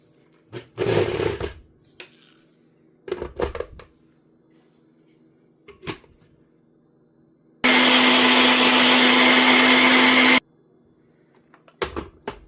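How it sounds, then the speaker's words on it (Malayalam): A blender grinds carrot, fresh turmeric, ginger and orange in one loud, steady burst of about three seconds, preceded and followed by short clattering kitchen handling noises. "ഞാനിത് എല്ലാം തന്നെ നല്ലതുപോലെ അരച്ചെടുത്തിട്ടുണ്ട്"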